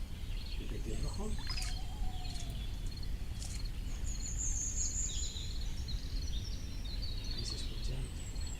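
A European robin sings in the dawn chorus at a wetland, giving thin high warbling phrases, faint and some distance off, over steady low background noise and scattered other bird calls.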